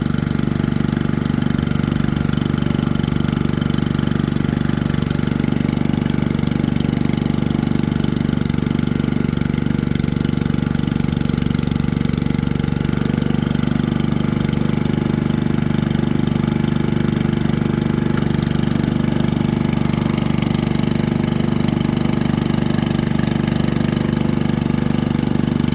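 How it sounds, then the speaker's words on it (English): A small engine fitted with a swapped, poorly jetted carburetor runs partially choked at a steady, loud drone, powering a pump on a troubled septic system, heard alone for the whole stretch without any voices. "had to get that thing running, and I had to put a carburetor off another motor on it. And it's not jetted quite right for it. So partially choked."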